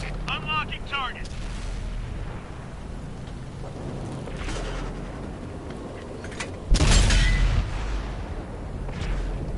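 In the World of Tanks console game on PS4, a tank cannon shot bounces off its target as one sudden, loud, booming blast about two-thirds of the way through, after brief voices near the start over a low rumbling battlefield background.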